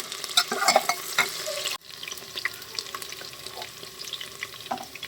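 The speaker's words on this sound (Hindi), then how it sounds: "हरी मिर्चें भी थोड़ी देर तल लेते हैं" Green chillies fry in hot oil alongside browned onions, a steady close sizzle with crackles and stirring clatter, louder at first, then dropping to a softer continuous hiss with occasional pops.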